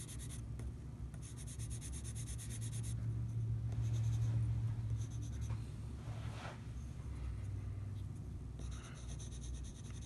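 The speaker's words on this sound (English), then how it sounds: "I love using these big fat pencils, laying down a lot of tone." A big, cheap carpenter pencil shades broad tone onto paper in soft, continuous rubbing strokes, quiet and close, with brief pauses between passes.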